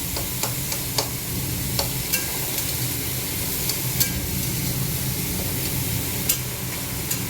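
Steady sizzling of food frying in a pan, with occasional stirring clicks and scrapes over a constant hiss.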